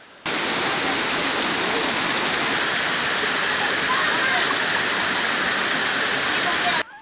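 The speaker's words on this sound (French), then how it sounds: "On se désaltère avec cette eau de source limpide, mais aussi de cette chute d'eau" A waterfall at a clear spring on Mount Niangbo roars in a loud, steady rush of falling water that fills the whole clip without break, heard close and alone.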